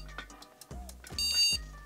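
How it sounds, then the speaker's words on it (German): A computer mainboard sounding beep codes at startup: bright electronic beeps at a steady interval, fairly loud and close, over low hum and faint clatter, with no one speaking. "Achte mal auf das Pieptonintervall."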